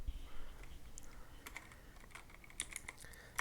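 Quiet typing on a computer keyboard, a scattered run of light key clicks and taps at an uneven rhythm, close and faint with no talking.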